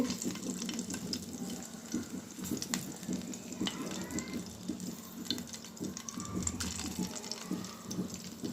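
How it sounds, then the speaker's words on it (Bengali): Mustard flower fritters drop into hot oil and fry, a bubbling crackle with scattered clinks and scrapes from handling, fairly faint and close, with no speech. "তেলটা গরম হয়ে গেছে এখন বড়াগুলো দিয়ে দিব"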